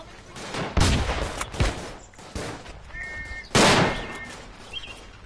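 Bursts of MG15A machine-gun fire in the World War I shooter Verdun, several loud rattling volleys separated by short pauses, with a distant whistle or tone between them and no talking.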